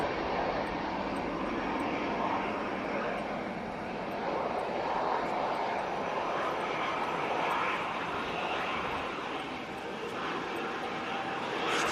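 A Ryanair Boeing 737-800 airliner lands in a gusty crosswind, its engines producing a steady, broad roar that holds loud and fairly close throughout without any clear break.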